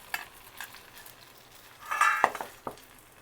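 Poornam burelu, sweet stuffed dumplings in batter, frying in oil: a soft, quiet sizzle with a few light clinks and stirring scrapes from a utensil against the pan.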